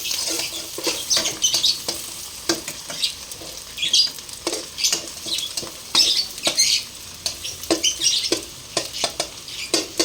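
Food sizzles and crackles in a hot pan, with intermittent scraping and stirring clatter across a steady frying hiss.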